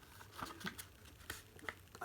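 An envelope of autograph mail being sliced open by hand, producing a series of close paper crinkles, scrapes and soft taps scattered unevenly across a couple of seconds with no talking.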